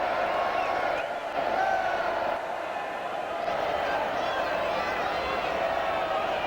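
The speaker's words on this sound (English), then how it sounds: "And you can just hear the crowd now calling out Bluey." A large football stadium crowd at an AFL match at Subiaco roars and chants a player's nickname, a steady dense wall of distant massed voices with some whoops, continuing throughout.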